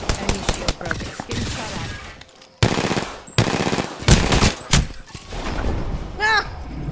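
Automatic and single gunshots fire in Apex Legends, with loud bursts coming in clusters, separated by short gaps and a brief silence, plus game sound effects and a player's voice in places.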